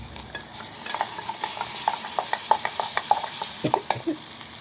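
Soy sauce sizzles in a frying pan as it is stirred, a steady close hiss dotted with quick crackles and spatula scrapes, with no talking over it.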